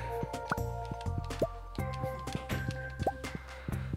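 Watering crops with a watering can in the farming video game Stardew Valley: soft splashy drip and squish effects recur irregularly over a low background music bed, with no talking.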